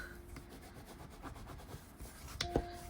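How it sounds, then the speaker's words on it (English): Soft, steady rubbing presses double-sided tape down onto a fabric and wood earring, close and quiet, with a few small clicks near the end. "rub it down really, really good on both sides so it stays stuck"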